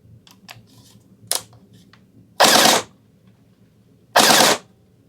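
A Faction Havoc gel blaster fires two short rapid bursts, each lasting about half a second, close and loud, with lighter clicks and handling noise before and between them.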